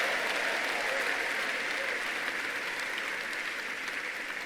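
Congregation in a church service applauding loudly and steadily, a dense wash of clapping with some cheering that holds at an even level throughout.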